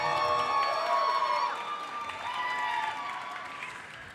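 A crowd at a beatbox championship battle cheers and applauds for a beatboxer, a loud swell of clapping and shouts that fades slightly, with an announcer's voice over it.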